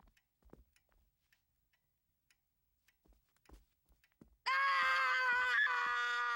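A child's sustained, loud scream bursts in suddenly after quiet with faint ticks and small noises, holding steady and shrill close to the listener until the end.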